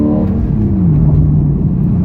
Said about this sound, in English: Oof, that throttle overrun is so delicious.